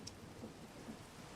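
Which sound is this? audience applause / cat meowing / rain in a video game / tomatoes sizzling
rain in a video game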